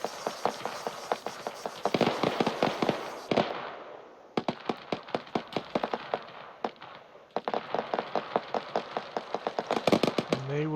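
Rapid rocket impacts from close air support in Arma 3 crackle in dense volleys of sharp, loud bursts, grouped into three long runs separated by brief pauses.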